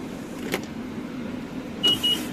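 A metro station fare gate in Malaysia, opened with a token, gives a double electronic beep with a brief mechanical whir over a steady background hum.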